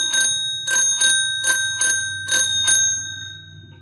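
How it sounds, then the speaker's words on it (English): A homemade bell that rings when its cable is pulled: a bright, metallic ring heard in seven quick, evenly spaced strikes, close and clear, fading at the end. "if I pull this up, it should ring here"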